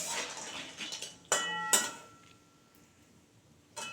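A metal utensil knocks and scrapes in a pan of pasta frying in ghee, with a few sharp clinks spaced apart over a low background hiss.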